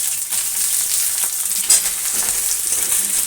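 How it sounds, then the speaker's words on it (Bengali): Pumpkin pieces for chhokka torkari fry in oil, giving a steady, close sizzle throughout while being stirred, with a brief louder scrape partway through. "তেলের দিয়ে নাড়াচাড়া করে নিই। ভালো করে নাড়াচাড়া করব।"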